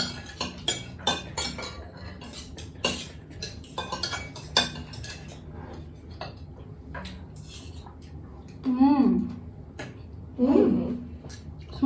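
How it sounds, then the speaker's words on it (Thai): Rice with carrots and minced pork being stir-fried in a pan, quiet scraping and clinking of a utensil against the pan in irregular taps, later joined by brief voices nearby. "เราก็จะผัดใส่แครอทด้วยนะคะในข้าวผัดของเรา"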